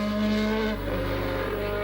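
A Formula One car driven by Lauda races past on the Österreichring circuit at the 1985 Austrian Grand Prix, its high-pitched engine whine dropping in pitch partway through as it goes by close and loud.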